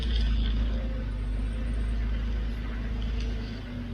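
A short-wheelbase 4WD driving a steep technical track at Genowlan Point, Mt Airly, heard as a steady low engine rumble close up, continuous and even throughout.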